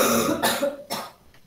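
A short cough burst with throat clearing, two or three harsh rasping hacks about half a second apart, close and clear with no talk over it.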